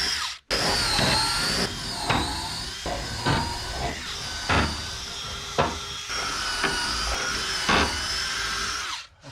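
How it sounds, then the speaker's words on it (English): Drilling holes for carriage bolts while building a wooden tractor shed, a close power drill whirring steadily with a series of sharp periodic bursts as the bit bites and is repositioned, no voices. "we'll drill the holes for the rest of these carriage bolts"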